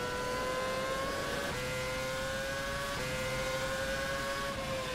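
Sim racing game race car engine leaving pit lane, a steady loud drone with rising pitch as it accelerates through two gear shifts, continuous and close with no talk.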